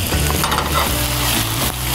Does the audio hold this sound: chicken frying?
yes